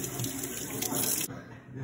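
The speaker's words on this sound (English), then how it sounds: "Then we have to put some water on it." Water runs from a tap onto a pop it toy in a short steady gush that drops off near the end.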